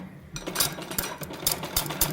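Sewing machine with a single presser foot stitching lace around a shirt neckline, close and clear, with quick rhythmic clattering bursts after a brief quiet start.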